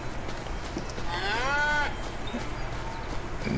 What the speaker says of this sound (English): Here's the dairy cattle right here.